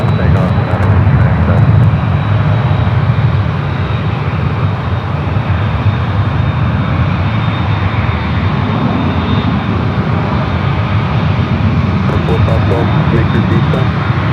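An airliner at San Francisco International Airport roars on takeoff, a loud sustained jet engine rumble filling the whole span while an air traffic radio voice talks over it.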